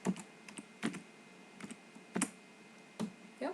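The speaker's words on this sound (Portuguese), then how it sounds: "Vou digitar dois números de novo." Keys on a computer keyboard are tapped in short irregular bursts of clicks, fairly close and quiet, with pauses between groups of strokes and no talking.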